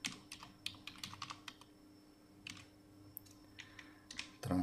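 Keys clatter on a computer keyboard during CAD work in Istram 14.0, entering transversal profile references; irregular bursts of clicks come close and fairly quiet, with pauses between them and a louder thump at the end.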